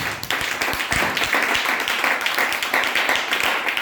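A church congregation applauds to acclaim the Lord, with sustained, dense clapping and a few voices mixed in.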